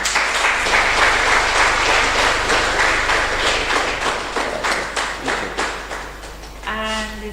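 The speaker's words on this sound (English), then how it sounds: "Please, let's clap for Mr. Chubuta." Audience applause at an indoor dialogue meeting on family-based care, a dense crowd clapping steadily and close, thinning into scattered claps near the end with a brief voice at the finish.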